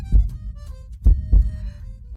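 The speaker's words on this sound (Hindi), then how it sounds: "अब क्या तुम मेरी दिल की धड़कन महसूस कर सकते हो?" A heartbeat thumps in low, soft double beats, close and muffled, with a quiet pause between pulses.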